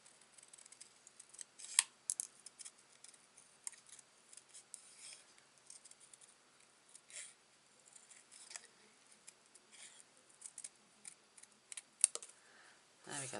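Scissors snipping by hand through card pieces, quiet irregular cuts and paper rustles close up, with faint crisp clicks scattered throughout.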